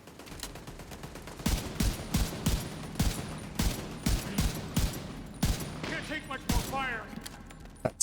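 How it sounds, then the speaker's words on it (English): Video game gunfire in a rapid run of sharp, loud shots at an uneven rhythm over a low background hum, with a few short electronic chirps near the end. "That's some shooting on my part."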